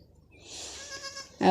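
A goat that has just given birth lets out one drawn-out bleat that rises and wavers for about a second, close and fairly clear, and a louder sudden noise cuts in right at the end.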